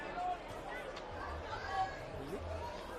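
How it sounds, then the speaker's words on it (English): Background crowd murmur and chatter at a rugby league match between Newtown Jets and Parramatta Eels, steady and fairly faint beneath a commentator's voice. "You can hear the crowd in the background."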